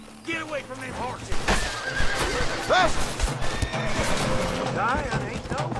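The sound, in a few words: horses neighing in a video game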